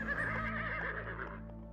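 A horse gives a single loud, close whinny with a wavering, high-pitched cry that trails off and fades toward the end.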